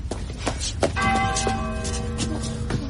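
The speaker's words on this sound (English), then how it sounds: "It's from the school. It's the old bell." An old school bell rings once and its tone hangs and slowly fades against a busy background of shuffling and thumps, in a radio drama scene.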